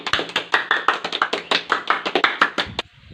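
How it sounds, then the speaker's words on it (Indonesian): Schoolchildren in an elementary classroom clap together in a quick, steady burst of applause that runs close and loud for almost three seconds, then stops abruptly into near silence. "Tepuk tangan dulu untuk Rival anak-anak."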